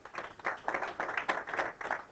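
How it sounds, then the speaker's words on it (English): Audience applause greets a pool player at a 9-ball state championship, a modest round of steady clapping that rises and falls for a couple of seconds at a fairly faint level. "A nice round of applause for Mr."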